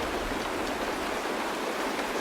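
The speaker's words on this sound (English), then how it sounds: "It's raining." Steady rain falls in a scene from the video game Honkai: Star Rail, a dense, even hiss of drops spread across the whole stretch with no voices.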